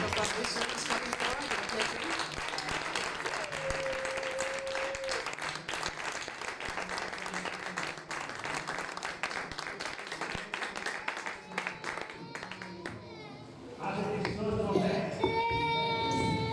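A church congregation applauds and cheers to acclaim the Lord as a pastor approaches, with music and voices mixed into the sustained, lively clapping.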